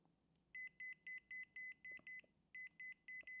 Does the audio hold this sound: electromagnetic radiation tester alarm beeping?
yes